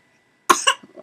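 A single close cough bursts out after a silent stretch, followed by a second rougher cough and a short throaty trailing sound, loud and alone without talk.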